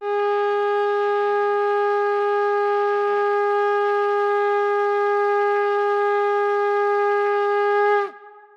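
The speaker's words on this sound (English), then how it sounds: "it wakes us up, and the shofar sounds like this" A ram's horn shofar blown in one long, steady, brassy blast lasting about eight seconds, loud and close, ending with a quick drop in pitch.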